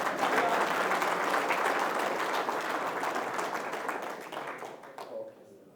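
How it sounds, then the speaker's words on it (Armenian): A church congregation claps in praise, a dense sustained wash of applause that fills the space at a steady level before thinning and fading out near the end. "դու մի հատ փառաբանես ու ծափարես Տիրոջը հիմա"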